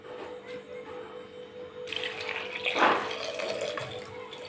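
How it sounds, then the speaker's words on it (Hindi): Water is poured into a home cooking pot holding chopped onion and garlic-ginger paste, a short splashing gush that swells briefly in the middle of quiet kitchen background. "और इसके बाद हम लोग पानी डालेंगे।"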